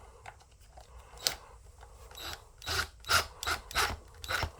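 A wrench drives a 1/4 inch self-tapping bolt into wood in a run of rough grinding, rasping turns, sparse and soft at first and then louder and closely spaced, with one sharp clink early on.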